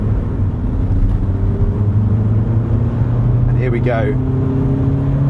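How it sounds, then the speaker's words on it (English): A 2020 VW Caddy van with a 150 PS engine accelerating hard on an open country road, a loud, steady engine drone heard from inside the cabin, with a person speaking briefly over it. "I'm going to put my foot down right now"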